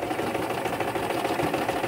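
A sewing machine runs steadily, closing the seam on a fabric napkin ring shaped like a rabbit, with a continuous close mechanical whirr and no pauses across the stretch.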